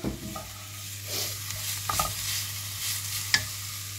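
Onion sizzles and fries softly in a pan while being stirred, steady frying hiss with scraping stirs and a sharp clink near the end, no talk.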